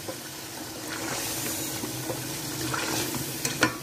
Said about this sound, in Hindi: अपने गोश्त को अच्छे से भूनेंगे अभी।